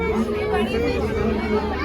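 Dense crowd chatter fills the fish tunnel at Jhansi Mahotsav, a steady wash of many overlapping voices with children's shouts mixed in, close and continuous throughout.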